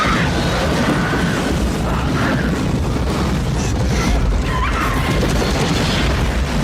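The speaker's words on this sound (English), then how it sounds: "it had explosions" Dense, continuous rumbling booms and blasts from the video game Helldivers 2, loud and sustained, with crashing debris layered over a heavy low roar.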